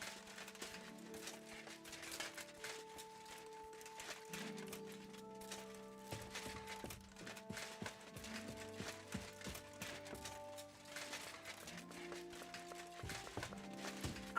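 Hooves of a walking horse clop in an irregular rhythm over a sustained musical background with low tones, moderately loud and continuous, in the video game Kingdom Come: Deliverance II.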